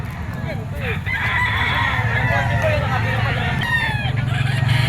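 Roosters and chickens at a crowded pet market, with crowing and clucking close by over a constant background din and people talking.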